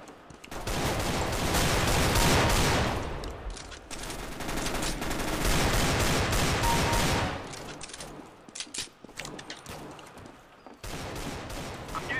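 Gunfire in Counter-Strike: Global Offensive. Long, loud bursts of automatic fire run for several seconds, then there is a gap of scattered single shots and quieter moments, and another burst comes near the end.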